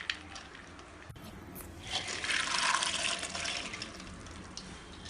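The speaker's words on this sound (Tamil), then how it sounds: "இந்த பாசிப்பருப்பு வேகிற அளவுக்கு கொஞ்சமாக தண்ணி ஊற்றி வேக வச்சுக்கலாம்" Water runs from a tap into a pressure cooker holding soaked green gram, a hissing, splashing fill that swells in the middle and tapers off, heard close and alone.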